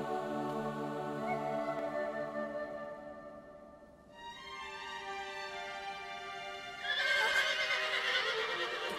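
A horse neighing in the video game Shadow of the Colossus: a long, drawn-out whinny that fades, followed by a second rising neigh and a louder burst at the end, heard alone without speech.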